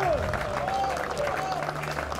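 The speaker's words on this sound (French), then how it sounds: "Et oui, il applaudit." Spectators applaud at a professional padel match in Bandol, a scattered burst of clapping that carries steadily through the clip over crowd noise and faint voices.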